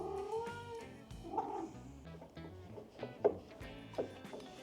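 Cats yowl and meow with a few brief rising cries, mid-distance and moderately loud, sounding over a quiet room while someone crochets a donut jar lid.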